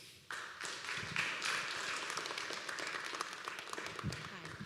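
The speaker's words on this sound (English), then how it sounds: "will you please give our guests a round of applause" An audience at Laney College breaks into applause that starts abruptly and holds steady, many hands clapping at moderate volume for several seconds.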